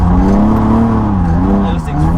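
An S52-swapped BMW E30 accelerates hard with three people aboard, its engine note a steady loud drone that rises and dips in pitch through the gears, with voices chatting over it inside the cabin.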